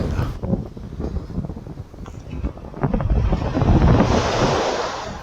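Winter sea waves wash onto the beach at Eulwangni, a steady broadband surf rolling in and swelling louder toward the end, with wind buffeting the microphone throughout.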